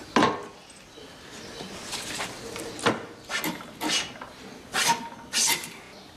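A hand tool drawn along a wooden plank in a workshop, giving a series of short scraping strokes, fairly close, with brief pauses between passes.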